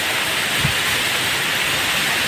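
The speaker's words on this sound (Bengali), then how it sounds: "যেমন বাতাস সেরকম বৃষ্টি" Heavy rain driven by strong wind roars steadily and loudly, a dense unbroken wash of noise with no voices.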